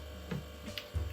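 An artificial aquarium pump hums faintly and steadily indoors, with a few soft ticks and knocks nearby.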